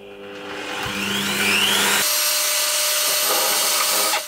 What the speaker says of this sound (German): Und jetzt fasen wir schön unsere Löcher noch an, äh, von oben, damit die Schrauben sich anständig versenken